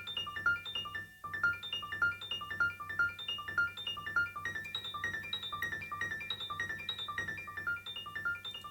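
A virtual German grand piano sampled in an intimate room plays a solo track, bright repeated melodic notes over a steady lower accompaniment, continuous and moderately loud with a brief pause near the start.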